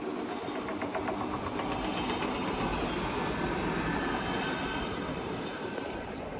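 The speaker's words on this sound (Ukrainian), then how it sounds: "Їде потяг." A train rolls past on a railway line in Switzerland, a steady loud rumble and rattle of wagons that holds for the whole stretch, close by, with no voices.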